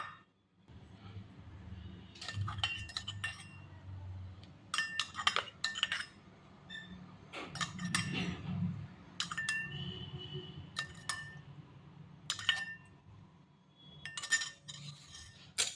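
A spoon mixing jaggery churma with ghee in a metal bowl, giving irregular bursts of sharp clinks and scrapes with quiet gaps between, close and fairly soft, with no one speaking.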